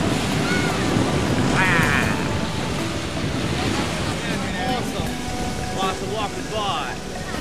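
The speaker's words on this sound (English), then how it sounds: "I sit here on the beach, ladies and gentlemen. Live in Port Crescent." Surf washes onto the beach at Port Crescent on Lake Huron in Michigan, a steady rushing wash mixed with heavy wind buffeting the microphone, with faint background voices.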